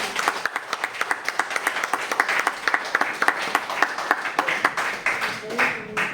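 Church members applaud during a service, brisk clapping with prominent close individual claps in an uneven rhythm, fading toward the end as a voice begins to speak.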